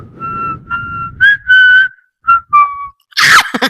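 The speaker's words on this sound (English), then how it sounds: "I've been really trying to perfect that whistle for the past couple weeks." A single person whistles a short melodic tune, clear and close, in several sustained and gliding phrases separated by brief pauses, ending with a breathy burst.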